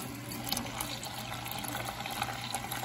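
Cold tap water runs over freshly boiled eggs in a sink, a steady, quiet rushing stream with soft splashing throughout.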